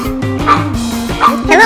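Three chihuahuas barking in cages inside a small pet food shop, a rapid flurry of shrill yappy barks and whimpers overlapping close by, loud and continuous.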